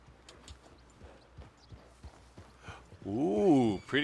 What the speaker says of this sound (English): Ooh, pretty horses.